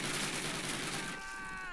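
Video-game gunfire in Call of Duty, a dense burst of rapid shots and a fading ringing tail, fairly faint and continuous throughout.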